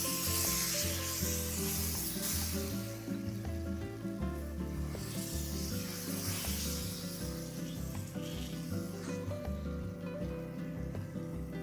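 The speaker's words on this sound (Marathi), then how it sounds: "अशा प्रकारे आपल्याला हे बॅटर तव्यावरती घालायचं" Jowar dosa batter spread on a hot tawa, a soft continuous sizzle with faint scraping while it spreads, partly masked by steady tonal background music and no talk.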